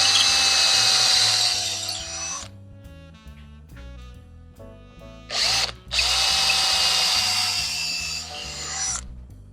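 A power drill bores into a 2-inch-thick wooden end table leg, whining loudly in two long runs separated by a pause with lower mechanical rumble and a brief burst between them.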